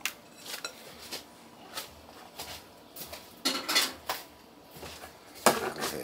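Potatoes go into a skillet for a western breakfast, stirred in with a utensil, giving close, scattered clinks and scrapes of metal against the pan at irregular intervals, with no one speaking.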